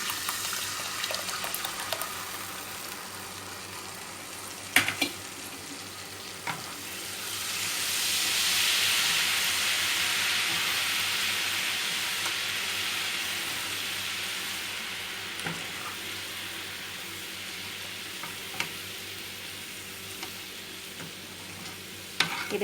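Tamarind pulp pickle mixture for an Andhra green chilli pickle bubbling and sizzling in a pan, a steady hiss that swells in the middle, with a few faint stirring knocks and no talk.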